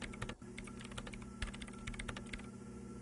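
Rapid keystrokes on a computer keyboard, a busy stream of close clicks and taps with brief pauses, steady and fairly quiet, with no voices.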